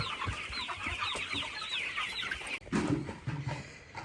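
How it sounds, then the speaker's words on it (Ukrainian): Three-week-old Hercules breed chicks cheep and cluck steadily as a group, close and continuous, with a brief louder shuffle partway through and no talk. "Геркулеси по три тижні ось сидять, які гарні."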